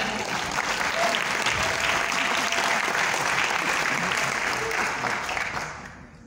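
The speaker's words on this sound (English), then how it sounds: "Warm applause to them." A school audience gives warm, sustained applause for students at a science casting show, a dense even clapping that tapers off in the last second.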